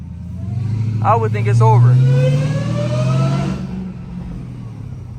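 A 1000HP Dodge Demon Charger with no hood accelerates with its supercharger whine rising over a deep engine drone, swelling for a few seconds then tapering off, close and loud while someone speaks briefly over it.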